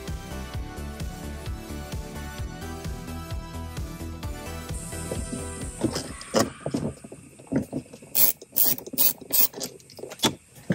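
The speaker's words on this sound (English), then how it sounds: "Go ahead and put on your extended socket. And get these started." A ratchet fitted with an extended socket tightens bolts during a tweeter install in a Toyota Tacoma, giving close, rapid clicking in short bursts after a steadier tonal stretch.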